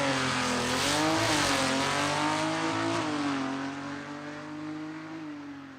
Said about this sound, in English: Steve Norwood, the engine builder there of the Crazy Pony, as he hustles that car down the racetrack